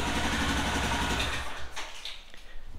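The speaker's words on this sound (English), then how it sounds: "Let it idle for about a minute." Royal Enfield Himalayan motorcycle engine idling nearby for a clutch-noise and hard-shift fix, a steady loud mechanical rumble with a regular low pulse that fades somewhat toward the end.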